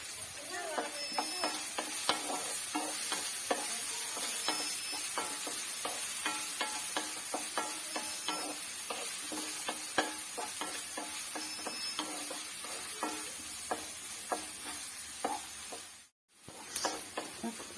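Onion and coconut pieces sauté in a pan for a jackfruit seed stir-fry, with a low sizzle under a long run of regular ticking spoon scrapes and taps. A brief silence falls near the end before the frying resumes.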